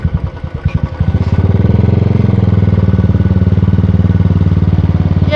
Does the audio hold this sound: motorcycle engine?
yes